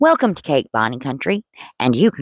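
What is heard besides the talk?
None of the usual background noises is heard.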